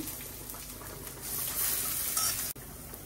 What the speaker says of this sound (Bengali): ডালের বড়াটা ভেজে নিচ্ছি। দিয়ে দিলাম কাঁচা মরিচ কুচি।